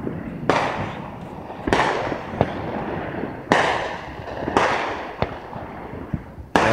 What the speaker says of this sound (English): we gonna watch some fireworks now